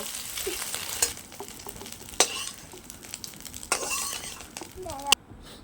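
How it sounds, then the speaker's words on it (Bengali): Egg scrambling in a wok as a spatula breaks it up, scraping and clinking against the metal in sharp bursts; a voice speaks over the cooking at times. "ডিমটাকে পুরো খুন্তি দিয়ে ভেঙে নিয়েছি"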